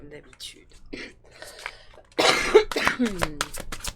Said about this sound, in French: Excusez-moi pour ma vilaine toux.